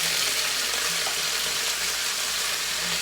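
Potatoes and turkey bacon frying in a pan for a cube steak dinner: a steady, close, dense sizzle with faint clatter underneath and no voices.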